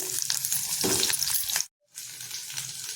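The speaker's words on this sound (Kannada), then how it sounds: "ಈಗ ಹೆಚ್ಚಿರೋ ನುಗ್ಗೆಕಾಯಿ ಹೋಳನ್ನು ಹಾಕ್ಕೊಳ್ತಾ ಇದ್ದೀನಿ" Drumstick pieces and mustard seeds fry in a couple of spoons of oil in a pan, a steady close sizzle with stirring clatter, cutting out briefly to silence before the sizzling resumes.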